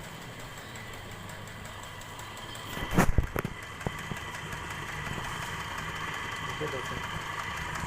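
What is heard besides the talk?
electric water pump motor running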